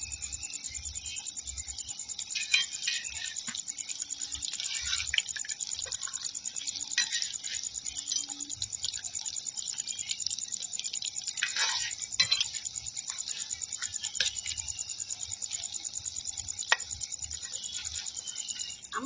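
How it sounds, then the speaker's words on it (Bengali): Chicken pakoras fry in oil over low heat, a faint, steady crackle and fine sizzle with scattered small pops, continuing quietly for almost twenty seconds. "পকোড়াগুলো খুব হালকা আঁচে ভাজি"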